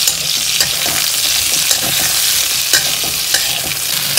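Pointed gourd and potato curry fries in a pan while being stirred, a steady close sizzle broken by scraping strokes of the spoon at an irregular rhythm, with no talking.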